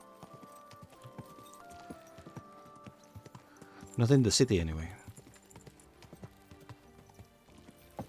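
Horse hooves clip-clop at a steady walking pace in the video game Kingdom Come: Deliverance II, with a brief louder burst from the horse midway and someone talking over the hoofbeats.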